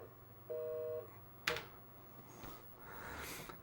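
A single steady tone burst like a busy signal on a phone line as a modem dials a BBS, followed by a sharp click and faint rustling and clatter, quiet overall.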